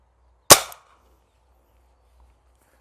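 Single sharp crack of a Cobra P-60 semi-automatic air rifle charged to 2000 PSI, a loud close report with a quick decay into near silence.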